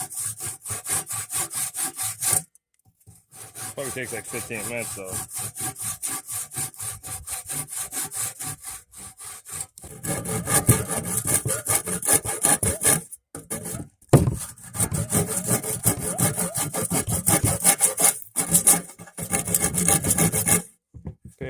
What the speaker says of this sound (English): once you start sawing and really get going at it